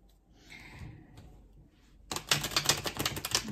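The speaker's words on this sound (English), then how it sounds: "while I'm shuffling the deck and getting it prepared" A tarot card deck is shuffled close up, a quiet riffle first and then a dense, loud run of rapid papery card snaps and flutters.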